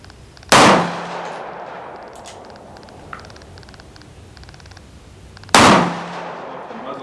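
.44 Magnum revolver fired twice outdoors, each shot a sharp, very loud blast with a ringing decay, about five seconds apart, with faint background noise between.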